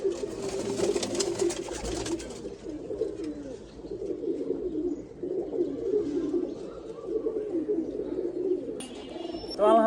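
Several pigeons coo steadily and close by in a loft housing breeding birds, their low rolling calls continuing throughout, with brief chirps and rustling at the start and end and people talking nearby.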